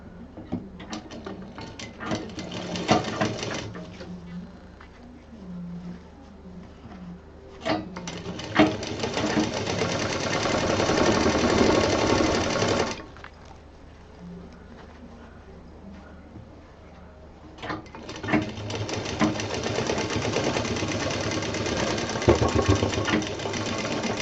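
A sewing machine stitches fabric pieces of a handbag in several loud, rapid bursts, with quieter pauses and handling noises between runs.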